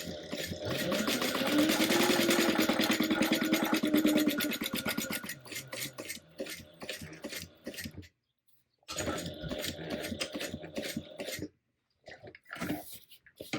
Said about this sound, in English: you're going to go ahead and sew around the box